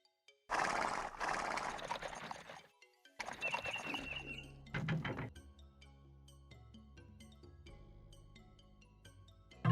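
A Spanish horse whinnies loudly near the start in Age of Empires II: The Conquerors, followed by game sound effects and a sustained low musical drone.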